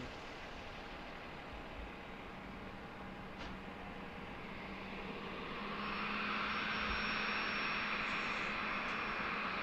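United airliner taxiing to the gate at Harrisburg, a faint steady engine hum with a thin high whine that rises and thickens in the second half, heard at a distance.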